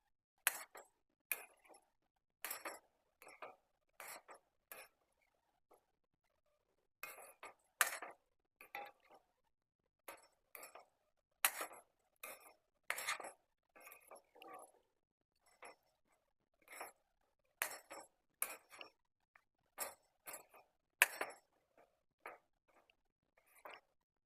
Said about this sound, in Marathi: आता हे चांगलं मी मिक्स करून घेते